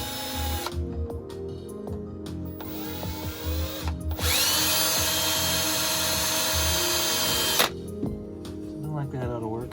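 A power drill bores out a spot weld on an Acura Integra body panel, whining loud and close in short bursts and then in one long, steady run, with someone talking between passes.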